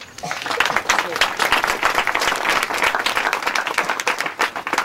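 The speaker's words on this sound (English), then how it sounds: "I think we need a round of applause" An audience at a 2009 HFF spring benefit breaks into sustained applause, a dense, steady patter of many hands clapping with a faint murmur of voices underneath, holding an even level throughout.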